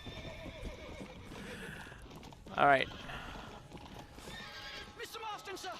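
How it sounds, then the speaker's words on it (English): A warhorse in the video game Red Dead Redemption: Undead Nightmare gives one loud, sharp neigh mid-clip over steady hoofbeats, while someone talks quietly throughout. "That's the warhorse, yeah."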